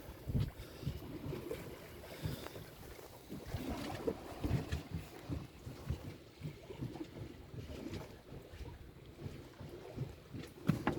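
A sailboat under way on an overnight sail in favorable wind, with steady wind rush and water sloshing against the hull, continuous and moderately loud.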